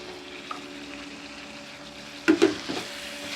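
Banana flower sautéing in oil for a Tamil-style pickle, with chilli powder and asafoetida, gives a steady low sizzle throughout. Brief louder stirring scrapes and crackles come near the end, with no talking.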